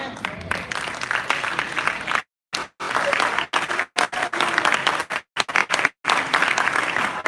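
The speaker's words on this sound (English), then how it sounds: "Yeah, but you clapping too long" A church congregation applauding loudly in repeated bursts, each broken by brief silent pauses, with some voices mixed into the clapping.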